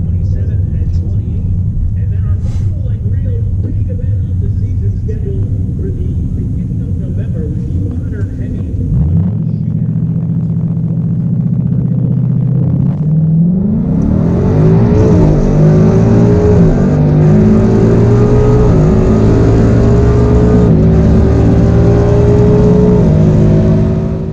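A stock 2018 Ford Mustang GT on a drag strip makes a loud rumble that drops and then climbs into a hard, rising roar as it accelerates down the quarter mile.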